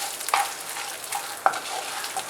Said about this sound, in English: I'm going to roast everything.